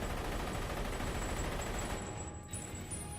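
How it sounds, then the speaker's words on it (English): Sustained volley of film gunfire as men shoot everyone in a room, dense overlapping shots forming a continuous loud roar for the whole span with no pause. "the men are forced to shoot everyone present"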